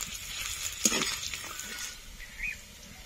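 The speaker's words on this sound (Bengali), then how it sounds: "পেঁয়াজটা লাল লাল করে ভেজে নেব।" Chopped onions sizzle in hot oil with dried chillies and cumin for a rohu fish curry, a soft, fairly quiet hiss with a brief stirring scrape and a few light pops.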